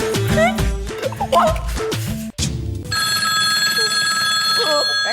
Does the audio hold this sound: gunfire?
no